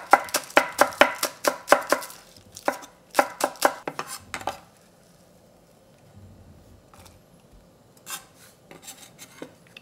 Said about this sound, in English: So 3 green onions. Chop it up.